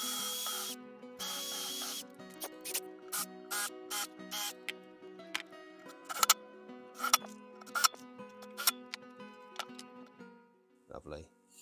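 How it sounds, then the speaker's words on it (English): Screws are driven into a scrap-wood jig with a power driver: a couple of longer whirring runs, then a series of short, sharp bursts and clicks, close and moderately loud, ending with a brief clatter. "then clamp it and screw it from behind"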